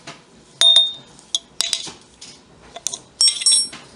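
Metal spoon scraped clean with a scraper while making peanut butter, giving sharp bright clinks and scrapes in short separate bursts with quiet gaps, close and fairly loud.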